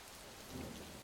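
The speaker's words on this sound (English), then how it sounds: "it's starting to rain" Steady, soft hiss of rain pattering on a surface outdoors on a golf green, faint and even throughout with no voices.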